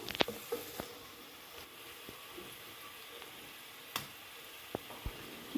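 Onions frying in a pan as ginger garlic paste goes in while chicken fried rice is being made: a faint, steady sizzle with a few sharp pops and clicks scattered through it.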